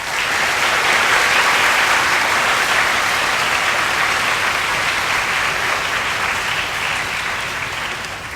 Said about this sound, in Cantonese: 講座即將開始，請以熱烈嘅掌聲歡迎李先生。